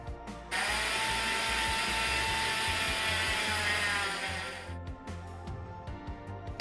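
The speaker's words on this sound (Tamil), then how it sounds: "இனி ஹை ஸ்பீட்டில் விட்டு கிரைண்ட் பண்ண போகிறேன்." A mixer grinder runs at high speed on peanuts being made into peanut butter, a loud continuous whirring whine that starts abruptly and holds for a few seconds, then winds down into rattling and clicks.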